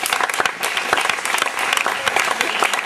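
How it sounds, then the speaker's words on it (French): Audience at a cinema debate breaking into applause, many hands clapping steadily and close, fairly loud, with no speech over it. "On l'applaudit."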